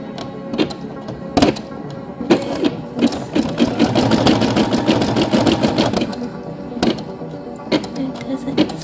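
An embroidery machine stitches an Owlette design, its needle rattling in a fast, steady mechanical chatter that starts and stops with brief pauses, close and clear with no talking.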